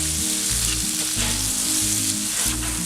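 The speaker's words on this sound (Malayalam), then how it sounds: "ചെമ്മീൻ ഇതിൻ്റെ അകത്ത് ഇട്ടിട്ട് നന്നായിട്ടൊന്ന് റോസ്റ്റ് ചെയ്യണം." Prawns roast in hot oil in a pan for a Kerala ivy gourd and prawn stir fry, a loud, continuous sizzle close by with soft stirring scrapes and no talk.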